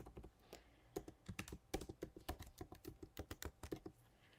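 Quiet, rapid typing on a computer keyboard, a close series of crisp key clicks in uneven bursts with brief pauses, no voices.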